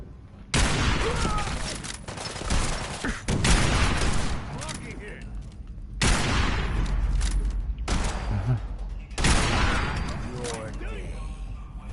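Gunfire in the video game Fallout 4 comes in several loud, rapid bursts separated by short pauses, with brief quieter gaps between volleys.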